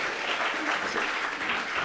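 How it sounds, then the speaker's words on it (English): Sustained, even applause from a seated audience at an SME investor presentation event, a dense wash of clapping with no pauses. "Please give me a warm round of applause."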